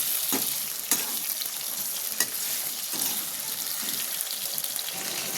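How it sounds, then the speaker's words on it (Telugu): Potato pieces fry in hot oil over a high gas flame, a continuous loud hissing sizzle with a few sharp spatters and stirring knocks, no speech. "ఆయిల్ అంటే వేడైపోయింది. ఆలుగడ్డ మెల్లిగా చిన్నగా వేసుకోండి."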